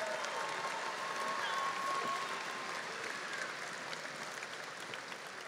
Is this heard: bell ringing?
no